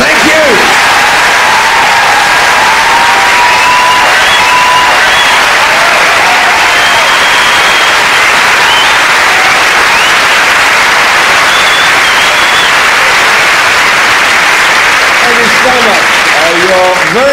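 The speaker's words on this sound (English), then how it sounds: "Would you now please kindly put your hands together for me, Ben Elton" A packed theatre audience at a stand-up comedy show in Leeds's Grand Theatre bursts into loud, sustained applause with cheers and whistles, a dense wall of clapping that holds steady throughout.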